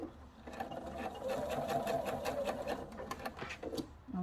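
A sewing machine runs steadily, quilting a line of stitching around a conical peg bag fabric, its continuous whirring motor and rapid needle chatter loud and close throughout with no talking.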